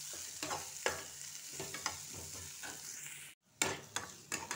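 Onions frying with browned garlic in oil for dal tadka, a low steady sizzle with a spoon stirring and scraping the pan in irregular strokes, cut by a brief silence and then resuming.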